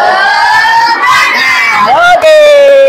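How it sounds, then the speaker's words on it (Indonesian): Children in an Indonesian classroom shouting a spirit chant together, loud sustained group voices with rising and falling sung tones, close and energetic. "kita tepuk semangat dulu ya, biar lebih fresh gitu loh"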